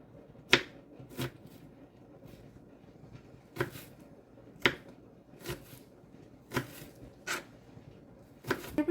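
A knife strikes a cutting board in sharp, separate chops with irregular pauses between them while food is diced finely for tacos al vapor, crisp and close with no talking.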